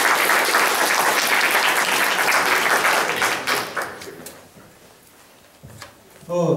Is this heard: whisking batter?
no